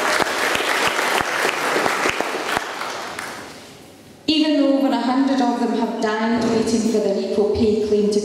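A crowd applauds steadily for about four seconds with a few sharp claps standing out, fading before a voice starts speaking clearly over the quieting room.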